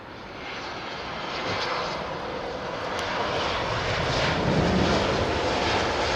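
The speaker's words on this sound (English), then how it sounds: "I don't know if the right-hand engine was using its reversers" Airliner engines roar steadily during a landing at London Heathrow Airport, a broad, loud rush of noise that swells slightly toward the end with no talk over it.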